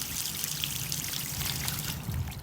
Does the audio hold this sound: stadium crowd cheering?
no